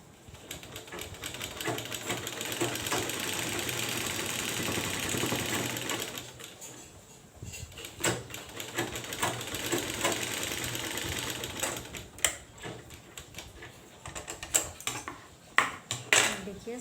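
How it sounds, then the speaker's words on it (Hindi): A sewing machine stitches a flat line along the side seam of a gents' kurta during home tailoring, running in a close, steady whir for about six seconds, then restarting in shorter bursts mixed with clicks and fabric handling. "देखिए साइड में हम एक सिलाई मार दिया, तो अभी ये प्लेन हो गया।"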